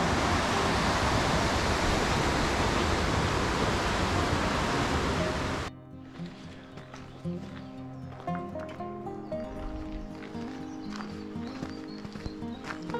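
A mountain river rushes beside a gently sloping mule track in Valchiavenna. A loud, steady roar of water fills the first six seconds alone, then cuts off abruptly to quieter, mixed sounds.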